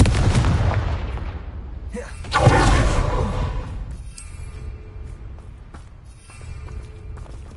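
A Confringo explosive spell cast in Hogwarts Legacy bursts with a sharp whooshing blast, then rolls into a rumbling decay as smaller crackling impacts follow.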